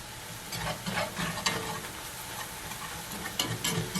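Onion gravy with flour, salt and black pepper is stirred in a pan, with a soft continuous sizzle and a series of light scraping strokes of the spoon, close and fairly quiet.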